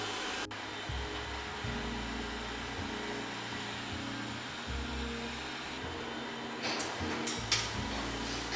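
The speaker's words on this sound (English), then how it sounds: "that's our robot vacuum doing the heavy lifting for me today" A robot vacuum cleaner runs in a home, a steady low whirring motor hum with faint rattles and clicks near the end, fairly quiet and continuous.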